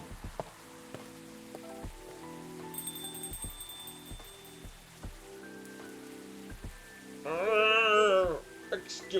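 Steady rain falls in the background, a soft continuous patter under a calm café-style game scene with music notes and chimes, rising into a brief louder swell near the end.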